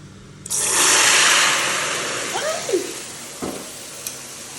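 A corn starch mixture hits hot used cooking oil and erupts into a loud, steady sizzle that swells at once, then slowly settles into softer bubbling crackle with a few stirring clinks.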